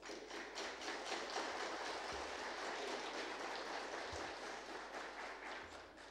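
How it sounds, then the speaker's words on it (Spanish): Sustained applause from a large crowd at an exhibition opening in Bolivia, a dense steady wash of clapping that holds at an even level throughout. "para quien pido poder recibirlo con un fuerte voto de aplausos"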